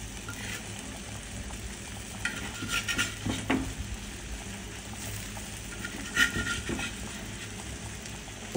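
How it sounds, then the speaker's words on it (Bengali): Fried taki fish pieces go one by one into a pan of sizzling, well-cooked masala, giving a steady frying hiss with scattered utensil clinks and stirring scrapes. No one speaks. "এক এক করে ভাজা মাছটা দিয়ে দিচ্ছি।"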